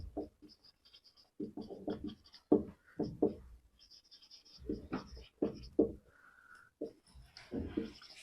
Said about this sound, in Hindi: अब जो है लिख देता हूं,